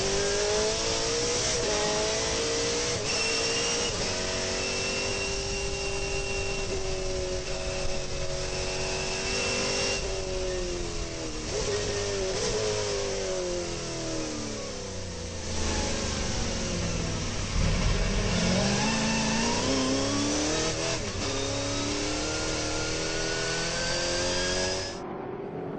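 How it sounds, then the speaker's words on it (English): A high-pitched National Sports Sedan racing engine screams at full revs at Mallala in 2009, bouncing off the rev limiter, with rising gear-change sweeps and a constant buzzing drone. "What a noise on the limiter."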